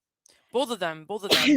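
A single sharp sneeze bursts out loudly at the end, just after a brief spoken phrase.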